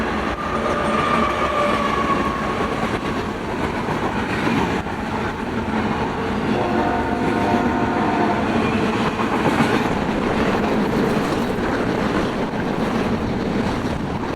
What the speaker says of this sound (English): another port stack heading westbound rolled through with BNSF 7624 leading